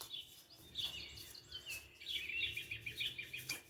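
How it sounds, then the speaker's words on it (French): Small birds sing and chirp in quick bright twittering phrases, faint and somewhat distant, with short gaps between bursts. "Vous entendez ces beaux oiseaux?"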